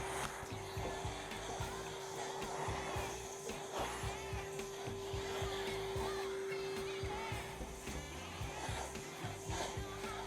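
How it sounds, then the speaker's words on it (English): A vacuum cleaner drones steadily, hoovering dust off a wooden garage storage unit before staining, a faint continuous motor whine with soft rubbing and shuffling as it runs over the surface. "we're going to hoover any dust off"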